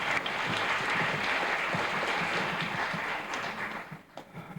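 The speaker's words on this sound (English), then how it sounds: "let's give Lauren a round of applause" An audience at a fourth grade spelling bee gives a steady round of applause for a contestant, dense and even throughout, then fading out near the end.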